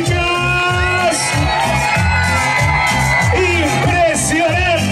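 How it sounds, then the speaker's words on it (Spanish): Girls in a concert crowd at a show at El Cantón in Escobar, screaming and cheering loudly and continuously over pounding live music with a steady beat. "Y el grito de las chicas."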